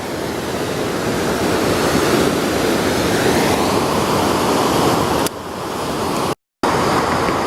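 The Ausable River rages through Ausable Chasm in spring high water, a loud, continuous roaring rush of whitewater, broadband and unbroken apart from a brief cut near the end.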